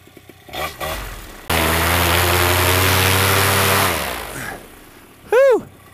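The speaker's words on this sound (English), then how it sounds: "So you want to do your motor run up right before a launch." A paramotor trike's engine is run up right before launch, roaring loudly and steadily for a few seconds before winding down, with brief quieter sounds and a short tonal burst near the end.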